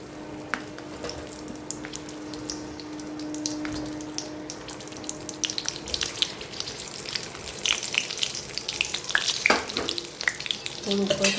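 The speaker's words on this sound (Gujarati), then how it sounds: "હવે આપણે એને તેલમાં શેકી લઈએ." Stuffed chilies frying in oil in a pan, a steady crackling sizzle with sharp pops and spatters that grow busier and louder toward the end.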